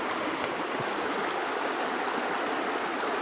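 Fast-flowing river current on the Leven River in Tasmania, a steady, close, full rushing wash of water that holds constant throughout with no voices.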